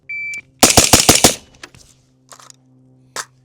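Suppressed carbine rifle fires a quick string of about five rounds, loud and close, followed by faint clicks and handling noise; a short beep sounds at the start.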